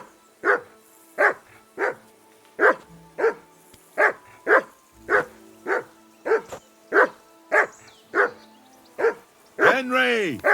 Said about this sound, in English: That dog of yours is barking like the devil. Quieten him down.